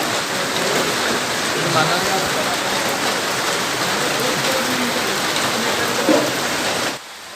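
Heavy rain pours near the Borpani river at Madhabpara in Nagaon, Assam, a dense, steady hiss of drops on surfaces filling the whole clip before it cuts off abruptly at the end.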